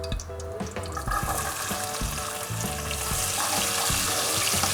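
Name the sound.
onions frying in a pan for chicken kaleji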